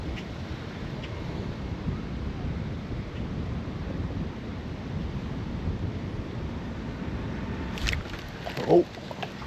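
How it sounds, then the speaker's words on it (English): Low, rumbling wind buffeting the microphone steadily throughout at Hayward Lake, with a brief sharp knock near the end and no speech. "So windy today"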